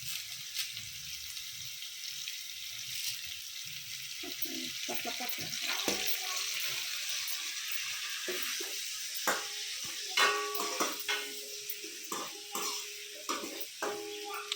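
Curry leaves sizzle faintly in a pan for fish curry, a low frying hiss broken by clattering pan and utensil sounds that grow busier and louder toward the end.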